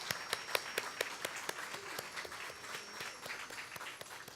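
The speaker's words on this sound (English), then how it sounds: "please give the DeKalb Employee Choir another round of applause" An audience at a county Martin Luther King Jr. celebration applauds the DeKalb Employee Choir, a dense, steady patter of many hands with a few louder individual claps standing out near the start.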